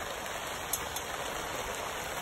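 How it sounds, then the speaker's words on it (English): Steady rain falls outdoors at an off-grid building site, a soft, even hiss of drops with occasional louder patters close by, fairly faint and without any talking. "Raining on my back."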